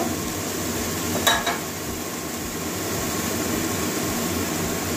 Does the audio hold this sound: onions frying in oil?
yes